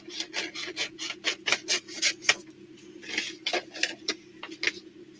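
Scissors trimming paper craft scraps, a quick run of crisp snipping and rasping cuts in bursts with brief pauses, close and fairly soft, no voices.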